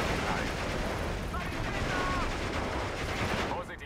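Gunfire in the Steel Division 2 WWII strategy game: a dense, continuous roar of massed battle fire at moderate level that eases slightly at the very end.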